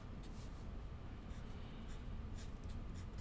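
Pen strokes on paper as a math formula is written out by hand, faint close scratching with quick light ticks over a low background hum, and no talking.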